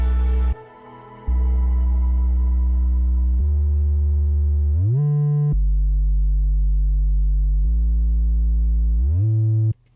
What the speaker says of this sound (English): I wanted a just deep sub going with the bass chords and these little like glides